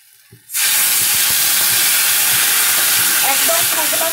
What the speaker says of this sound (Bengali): 2 মিনিট একটু নাড়াচাড়া করে নেব।